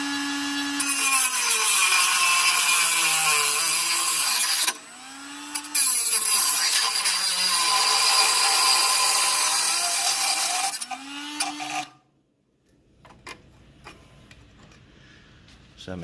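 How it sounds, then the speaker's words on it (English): A Dremel rotary tool cuts through a compressor line in a Maytag SkyBox, a loud high-pitched grinding whine with wavering pitch as it bites the tubing, pausing once briefly, then stopping and leaving faint handling noises. "best thing I've found to use is probably a Dremel tool"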